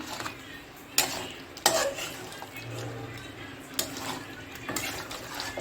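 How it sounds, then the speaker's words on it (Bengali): Mutton curry with potatoes being stirred in a pot, giving a few sharp clanks of a utensil against the metal pot over a low simmering background, close by and moderately loud. "আলুগুলো দিয়ে দিলাম। এবারে আবার একবার নাড়াচাড়া করে"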